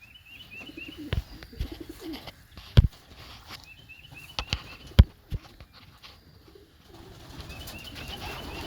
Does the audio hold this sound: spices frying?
no